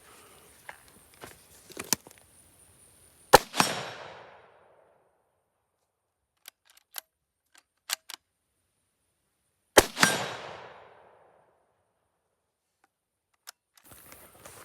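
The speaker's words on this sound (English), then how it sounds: "Now I'm going to shoot a couple at that target there, just to the left of the cedar tree." Gunshots strike a steel target hung on T-posts with a Caldwell T-post hanger, heard as two loud cracks spaced several seconds apart, each followed by a ringing metallic decay, with scattered small clicks and handling noises between them.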